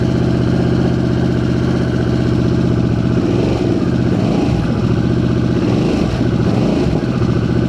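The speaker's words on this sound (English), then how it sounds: "It's a great engine." Harley-Davidson Sportster S motorcycle engine running steadily up close, a loud continuous rumble with a few uneven rev swells in the second half, no voices.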